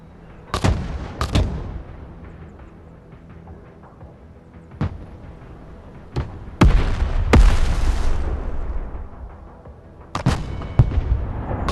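An artillery fire mission in the video game Broken Arrow sets off a series of loud, sharp blasts and booms at irregular intervals, with rumbling tails between shots.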